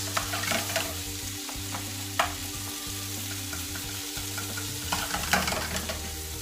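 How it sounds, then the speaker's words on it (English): Bacon pea risotto cooks in a pan over low heat, giving a steady close sizzle with occasional scrapes and stirring clicks, a continuous hum running underneath. "Just let that start to cook on a nice low heat for a few minutes."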